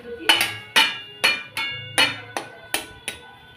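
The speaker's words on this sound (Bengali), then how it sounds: "লবণ দিয়ে দিলাম, এটাকে নাড়াচাড়া করে দিচ্ছি।" A spoon strikes a metal cooking pot of beans with salt, garlic and green chilies in about seven sharp, evenly spaced clanks. The strokes are close and ring bright, with quiet moments between them.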